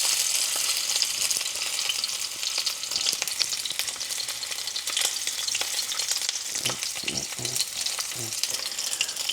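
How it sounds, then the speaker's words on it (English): A steak sears fat side down in a pan, giving a loud, dense, continuous sizzle close up, with a few spatters and stirring knocks near the end and no one speaking. "you lay the steak on the fatty side. Just to render the fat down a little bit"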